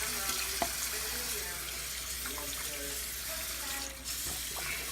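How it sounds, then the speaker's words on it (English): Warm water runs steadily from a tap to wet hair during a hair-washing routine, a constant close hiss with a few faint clicks and splashes. "use warm water to wet your hair"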